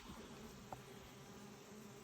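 Faint, steady buzzing of bees in flight, a soft continuous drone with no voices.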